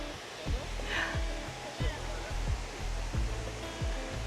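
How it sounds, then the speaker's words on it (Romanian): Waterfall at Tivoli, Italy, a steady broad rush of falling water heard at moderate distance, with low thuds from wind or handling and a brief voice over it. "Uite ce frumos să vezi cascada de aici."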